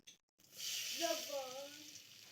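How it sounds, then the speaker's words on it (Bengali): Turmeric and salt going into a small amount of hot frying oil, starting with a brief clatter, then a steady bright sizzle that rises and holds close, with a voice murmuring faintly under it. "তেলটার মধ্যে হলুদ দিয়ে দিচ্ছি, হলদি লবণ"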